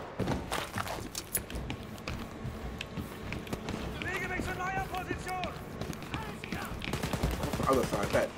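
Gunfire in the shooter Wolfenstein Youngblood, repeated sharp shots scattered through a dense, busy game soundscape with footsteps and movement, while someone talks over the action.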